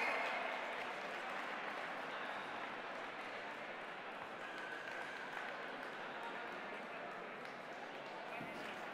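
Applause for prize winners at the Robocampeones robotics competition, a steady, fairly faint and distant clapping crowd with voices mixed underneath.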